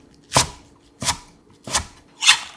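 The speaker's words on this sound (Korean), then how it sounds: "부추 한 줌 150g을 깨끗이 씻어 2cm 길이로 썰어주고" A knife chops a handful of washed garlic chives into 2 cm lengths on a cutting board, four crisp evenly spaced strokes with quiet pauses between, close and clear without any voices.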